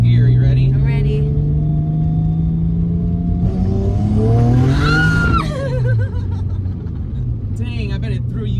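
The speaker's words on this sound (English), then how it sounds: "We're gonna do a second gear pull." A 350 WHP turbocharged Mazda MX6 running E85 pulls hard in second gear from inside the cabin, its loud engine note climbing steadily before a sharp break and a lower, rougher rumble afterward.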